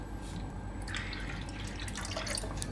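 Water trickles and splashes as it is poured into a pot of urad dal with spinach, a soft, continuous, fairly quiet pouring sound with no voices.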